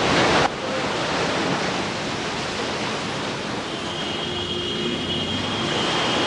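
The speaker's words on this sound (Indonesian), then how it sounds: "Ombak yang beralun mendayu-dayu." Broad, steady rush of ocean waves on a night shore, continuous and fairly loud after a brief louder burst at the very start, with no voices.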